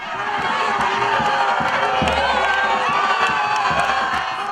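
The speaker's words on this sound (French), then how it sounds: "le couple présidentiel s'est offert un bain de foule avec la communauté congolaise vivant en Côte d'Ivoire" A dense crowd of Congolese community members in Abidjan cheers and shouts continuously at close range, a loud steady roar with whoops rising through it as the presidential couple greets them.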